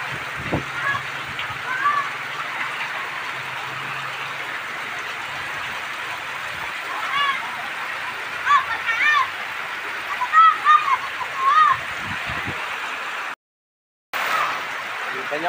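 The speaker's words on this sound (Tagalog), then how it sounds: "Sa kalsada dumadaan yung tubig," Floodwater rushes along a road in Bulusan rather than through the drains, a steady, dense roar of flowing water with louder splashing surges partway through and faint voices beneath.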